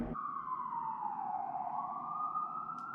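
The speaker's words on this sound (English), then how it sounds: "ambulance," A city ambulance siren wails loud and near in a single long, sweeping tone that dips and rises again over a low traffic rumble.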